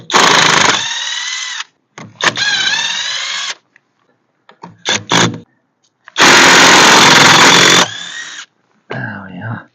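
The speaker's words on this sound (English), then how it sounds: "Right, let's get these wheels off." An impact wrench or power tool rattles wheel nuts off an MG TF sports car in bursts of loud, close buzzing whirs, with short pauses and quieter bits between them.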